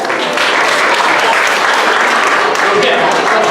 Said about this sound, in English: Can you guys clap for him